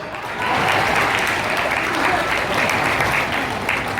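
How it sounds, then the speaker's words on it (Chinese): Applause for a couple at an Amis indigenous wedding banquet, a dense, sustained round of clapping from a crowd that swells in and holds steady throughout. "掌声恭喜好不好？"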